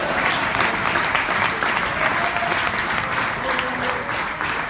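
Sustained applause from a church congregation clapping in praise, steady dense clapping filling the whole stretch without pause.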